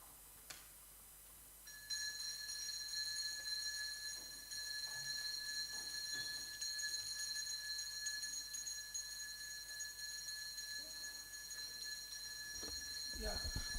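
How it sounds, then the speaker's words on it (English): A division bell rings in a county assembly chamber, a sustained electric ringing tone that starts after a brief click and continues steadily and fairly loud for the rest of the span. "the Sergeant at Arms, please proceed and ring the bell"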